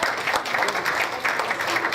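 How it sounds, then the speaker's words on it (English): Audience applause fills a banquet hall, a dense, steady clapping from a crowd lasting the whole moment, fairly close and even in loudness. "Give a round of applause, ladies and gentlemen."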